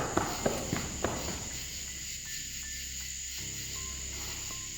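Footsteps in the dark at night near an old sawmill: a few sharp, quick steps at the start, then they stop, leaving a steady chorus of crickets and insects.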